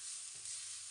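Onion chutney roasting on a tawa gives a steady, faint, hissing sizzle that runs without a break through the short stretch.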